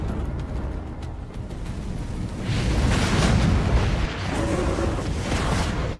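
A deep, roaring blast swells into a sustained rumbling burst of noise, loud and dense, then tapers slightly while the roar continues.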